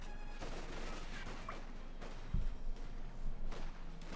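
Heavy .50 caliber machine gun fire rattles in a Company of Heroes 2 battle, with distant rapid bursts and a sharp thump, followed by louder clustered volleys toward the end.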